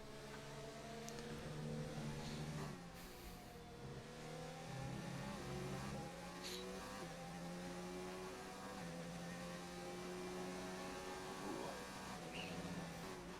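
Racing cars in a PC racing game on the Austria track, engines droning and revving steadily through corners, several harmonic engine tones rising and falling together, loud and continuous throughout.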